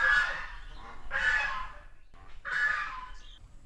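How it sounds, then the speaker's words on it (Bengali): Geese honking in three loud, drawn-out nasal calls spaced about a second apart, close by and alone, with no talking. "এগুলো কি গেল দেখতে পাচ্ছ? রাজহাঁস।"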